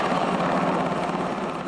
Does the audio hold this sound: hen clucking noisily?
no